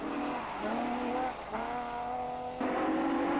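A work-spec Ford Sierra 4x4 rally car, driven by Stig Blomqvist at the 1987 Rally New Zealand, pulls away with a steady, loud engine drone that shifts pitch through gear changes and rises again near the end.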